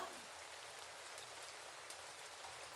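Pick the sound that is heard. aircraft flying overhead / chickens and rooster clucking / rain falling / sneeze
rain falling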